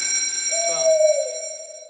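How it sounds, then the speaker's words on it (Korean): Loud electronic alarm ringtone from a phone in a small semi-basement room, a bright steady tone rising in and sustaining for the rest of the moment over a faint background hum. "벨소리 엄청 큽니다. 실제로 들려드릴게요."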